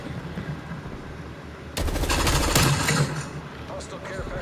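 Rapid automatic gunfire in Call of Duty Black Ops Cold War erupts as a loud, dense burst of about a second amid game background noise, with a player talking around it.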